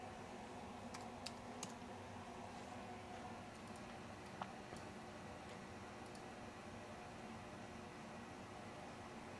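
Quiet, sparse key clicks from typing on a computer keyboard, a handful of soft taps spread over several seconds against a steady low hum.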